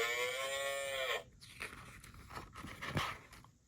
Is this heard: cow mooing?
yes